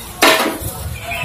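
Food is stirred in a metal pot on a rocket stove, with one sharp metallic scrape or clink followed by softer rattling, close by and brief.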